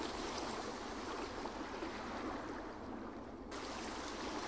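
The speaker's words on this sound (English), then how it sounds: "I'm using the river sounds and a low pass to create sort of like crash" River water shaped into a muffled, low-pass wash like crash cymbals, a steady rushing hiss that cuts off sharply near the end and then swells back in.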